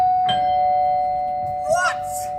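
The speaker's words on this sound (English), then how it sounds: "It felt like just a minute later when the doorbell rang again." A doorbell chime rings out with a sustained bright tone, while a voice speaks briefly around it.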